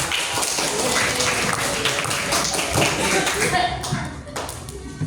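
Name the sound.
group applause for a presenting group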